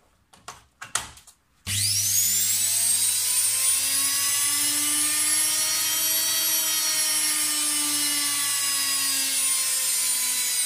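After a few brief knocks, a washing machine's electric motor whirs up and runs steadily at a high, even whine, loud and close, with no talking.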